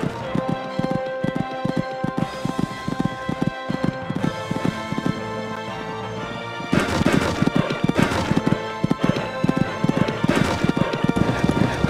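Computer game horse hooves clatter in quick, rhythmic galloping beats while a horse jumps fences on a cross-country course at the Kentucky three-day event, with a heavier landing thud and a faster, louder stretch of hoofbeats afterward.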